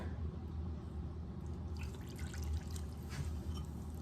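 Water runs and trickles into a cup for homemade play dough, a steady wet stream with a low rumble underneath, close and moderately quiet, with no talking.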